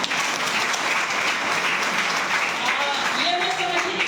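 An audience at a product training session claps loudly in a thick, continuous burst, with a voice faintly rising over it near the end.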